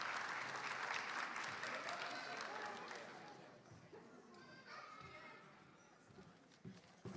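Applause from a crowd at a school graduation ceremony, loud at first and fading over several seconds, with scattered cheers and voices from the audience mixed in.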